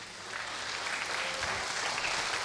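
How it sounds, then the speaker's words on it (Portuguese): A church congregation applauds God during a sermon, with steady, continuous clapping that fills the room at moderate volume, with no voice heard over it. "Quem aplaude a Deus aqui?"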